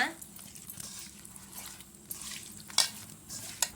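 Soya chunk kababs dropped one by one into hot oil, giving a soft crackling sizzle with small sharp spatters and clinks, faint and close, with a voice speaking over it.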